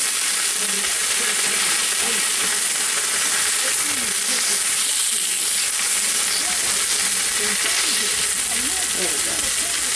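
Ham sizzles in a hot pan for a breakfast sandwich, giving a constant loud hiss and crackle for the whole stretch with small pops scattered through it.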